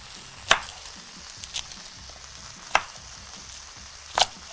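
Butter sizzles in a pan for a chicken, mushroom and caramelized onion soup, a steady soft hiss with a few sharp utensil taps on top, close and quiet, with no talking.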